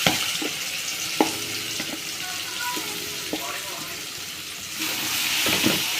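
Mango pieces for Kerala-style pickle frying in a pan, a steady sizzle with occasional scraping stirs and clinks of a spoon, close by, the hiss swelling again near the end.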